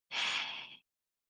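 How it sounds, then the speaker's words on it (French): A single deep, breathy inhale during a guided breathing exercise, close and soft, lasting under a second and then silence. "Inspire"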